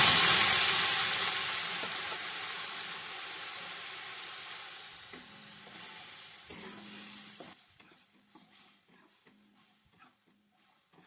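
Ginger, tomato and green chilli paste frying in hot oil while being stirred: a steady sizzle that starts loud and slowly fades, broken by scraping clicks of a spatula toward the end.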